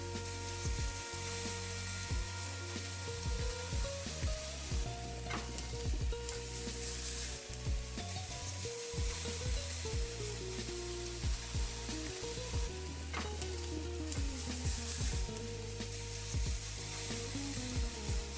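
Scallops searing in a hot frying pan, a loud continuous sizzle and crackle heard up close, with occasional clinks and scrapes of a utensil in the pan.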